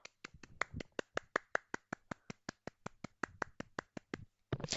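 A small group at a New Year church gathering claps hands in unison, a crisp regular beat of about twenty sharp claps in a quiet room, with a burst of noise at the very end.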